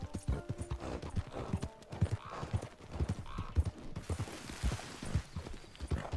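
Horse hooves clip-clopping in steady rhythm in the video game Red Dead Redemption 2 online, close and clear, with a faint snort and light ambient noise.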